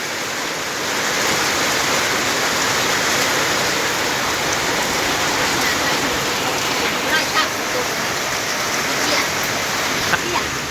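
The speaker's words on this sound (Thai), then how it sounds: "บรรยากาศฝนตก" Heavy rain pours steadily over open rice fields in a thick, continuous hiss with no letup, close and loud, and a few faint drips and taps stand out.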